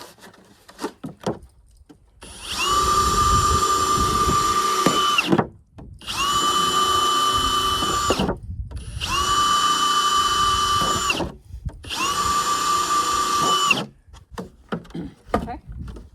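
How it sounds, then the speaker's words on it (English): Power drill boring four holes in the bottom of a container for seed starting, four sustained whining bursts of a few seconds each with short gaps, loud and close, with handling noise between. "First thing you want to do is drill 4 holes in the bottom."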